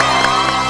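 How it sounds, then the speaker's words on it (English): A studio crowd gives a steady, dense round of applause and cheering for a football quiz winner, a continuous wash of close clapping with no pauses. "please put your hands together and give a round of applause to your winner,"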